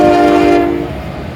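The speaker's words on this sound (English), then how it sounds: "unit frac sand train, empty" An empty westbound unit frac sand freight train sounds its loud, sustained horn up close at Oak Harbor, then the horn cuts off and the train's rumble carries on alone.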